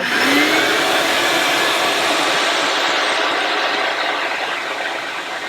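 A loud vacuum roars steadily and close up, with a broadband whine, while a drill's higher grinding joins in underneath as it drills out a rivet, continuous throughout.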